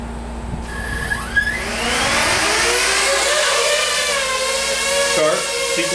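Drone taking off during an autonomous cloud-commanded flight, its motors spinning up from a few clicks into a loud, rising whirring hum that holds steady at full power, close by.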